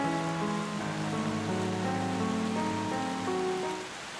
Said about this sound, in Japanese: その日も雨でした。